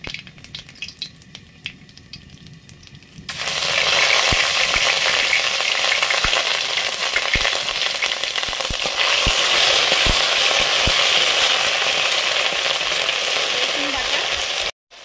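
Dried red chilies and nigella seeds frying in mustard oil for a Bengali taro dish, a loud steady sizzle that bursts in after a quieter start and holds with crackling pops to the end.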